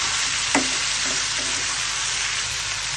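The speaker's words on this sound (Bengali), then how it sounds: "আর এর সাথে একটু ভাজা ভাজা করে নেব মশলার সাথে" Dried fish fries with spices in a pan, giving a loud, even sizzle throughout, with one brief scrape or stir near the start.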